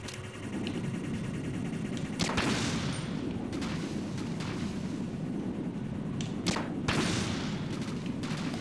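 Gunfire aimed at a jet in a Metal Gear Solid video game: steady, loud weapon noise with sharp, heavy bursts standing out near the start and again later, over a constant rumbling battle din.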